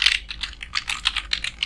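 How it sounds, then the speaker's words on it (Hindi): Rapid keystrokes on a computer keyboard while text is typed into MS Word during a live computer class, a close, steady stream of clicky taps. "तो यहाँ पे ये मैंने टेक्स्ट टाइप कर दिया।"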